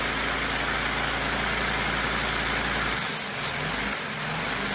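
A LEGO two-cylinder engine runs steadily through a three-speed gearbox, giving a loud, continuous mechanical whir and hum with a slight dip in tone partway through.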